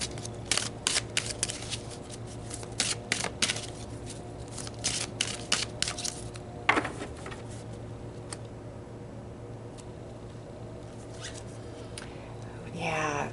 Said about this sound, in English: So let's pull another card here.